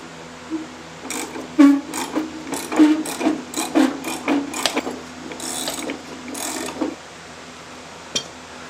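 A wrench ratchets and clicks against the generator pulley nut of a 1972 VW Beetle trike, a run of close, uneven metallic clicks and scrapes that then fade back to quiet with one last tap.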